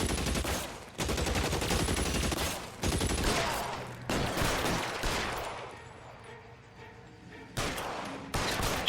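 Repeated bursts of gunfire in an L.A. Noire shootout in an alley, loud volleys that come in clusters and stop for brief gaps, with no voices over them.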